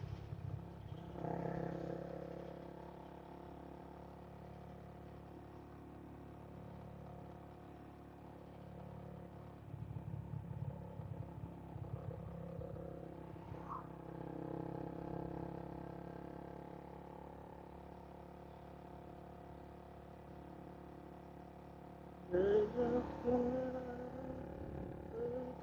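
Honda CBR250R motorcycle engine while riding, a steady low drone with tonal harmonics and passing rises in revs, a burst of louder clatter and wind rumble near the end, no talk.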